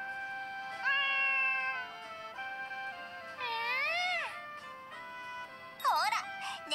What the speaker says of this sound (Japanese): ほら、猫たちも歓迎してるにゃ。